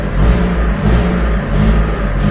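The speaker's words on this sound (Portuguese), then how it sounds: "Ó, o barulhinho tá com escapamento silenciosinho, certinho." A Fiat Siena Fire 1.0 engine idling steadily with a quiet, intact exhaust, a low even hum with slight pulsing, close and continuous.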